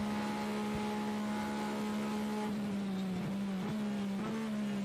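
The number 91 Porsche race car is heard from on board during an endurance race, its engine holding a loud, steady droning note with a few brief dips and surges from gear changes in the second half.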